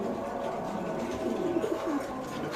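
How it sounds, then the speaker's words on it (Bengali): Caged pigeons at a bird market coo in soft, overlapping murmurs against a dense crowd hum, with a few brief chirps mixed in. "খাঁচা নাম্বার 20 এমন চিচি করে, কত সুন্দর মাশাআল্লাহ ভাই"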